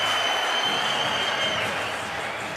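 A crowd applauds and cheers at the SLS Paris skateboarding competition, a steady broad wash of clapping that fades slightly toward the end.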